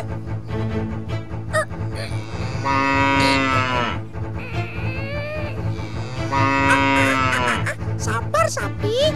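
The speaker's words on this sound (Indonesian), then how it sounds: "Sabar, sapi." A cow stuck between trees moos loudly and close by, two long drawn-out calls a few seconds apart, with people talking in the background.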